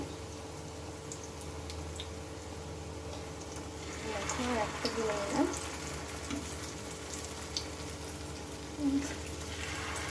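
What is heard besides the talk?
bitter gourd snacks frying in oil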